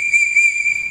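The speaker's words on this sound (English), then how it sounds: "Three get arrows. Three whistle blasts." Whistle blasts on an archery range, a loud, steady high-pitched tone held through the second with slight pulsing, close and alone with no talk.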